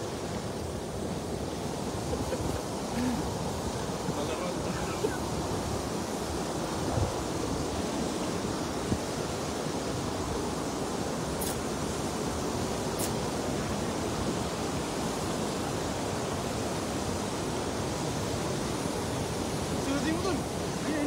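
Strong wind blows by a river during traditional net fishing, a steady, broad rushing noise buffeting the microphone throughout, with faint scattered sounds beneath.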